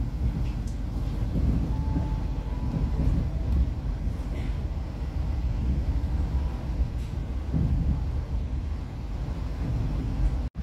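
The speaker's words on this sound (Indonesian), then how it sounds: "kereta api Bogonto diberangkatkan kembali dari stasiun Cirebon Perujakan" Steady rumbling roar of the Bogowonto train rolling along the rails after departing Cirebon Prujakan station, constant and loud throughout, with faint clanks and a brief squeal.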